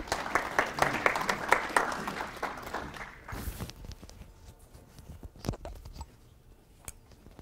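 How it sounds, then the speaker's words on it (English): An audience at an aerial applicators' safety meeting claps for a presenter, a dense burst of applause that thins to scattered claps and fades out over several seconds, with light shuffling at the end. "Let's give Andy a round of applause."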